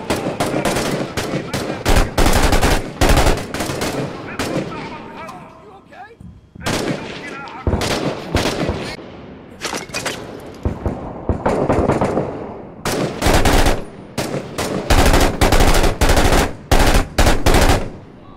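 Heavy mortar blasts and bursts of automatic gunfire fill the Six Days in Fallujah combat scene, loud and close. Rapid volleys alternate with brief lulls, and a voice speaks faintly amid the chaos.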